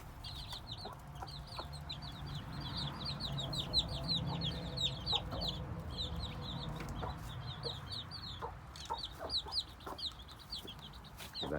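Hens cluck softly and repeatedly while chicks peep in quick high bursts, a busy farmyard brood of eleven chicks with two mother hens feeding on scattered grain, close and continuous.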